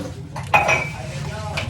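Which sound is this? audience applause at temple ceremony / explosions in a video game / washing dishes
washing dishes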